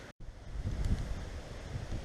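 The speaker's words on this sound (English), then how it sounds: "It's a little bit windy today" Gusty wind buffeting the microphone outdoors beside a 2013 Dodge Charger, a low rumbling roar that swells and dips continuously over the short stretch.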